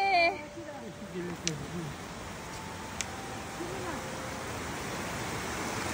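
River water flowing at the bank, a faint steady rushing wash with a few brief clicks, after a voice speaks briefly at the start.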